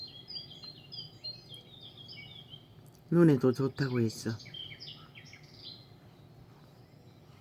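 Forest birdsong played from a tablet: faint, high chirps and tweets repeat steadily throughout, briefly interrupted by a louder nearby voice speaking in the middle.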